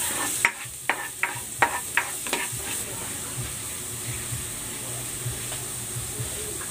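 Garlic sautéing in a pan for patola soup with tofu and egg: a few sharp scrapes and clinks of a spatula stirring at the start, then a continuous soft sizzle and hiss with no talking.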